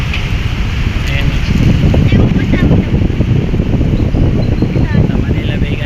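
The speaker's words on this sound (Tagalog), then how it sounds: "Lakas ang hangin. Ang pressure ng hangin sobrang naka ilang malaking electric fan." Strong wind buffets the microphone on the shore of Manila Bay, a loud continuous roaring rumble with faint water and distant sounds beneath it.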